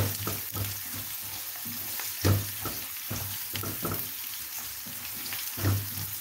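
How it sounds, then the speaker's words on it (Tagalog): Tofu sizzles steadily in a pan with other vegetables while noodles are cooked, a constant hiss broken by repeated clinks and scrapes of stirring, close and fairly loud, with no talking. "Lagyan natin yung tofu para ma-fry siya ng konti."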